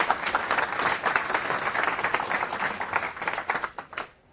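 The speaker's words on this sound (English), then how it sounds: "So round of applause for him." A conference audience at FOSDEM applauds a speaker about to talk on machine learning, with a steady crackle of many hands that thins into scattered claps and stops abruptly at the end.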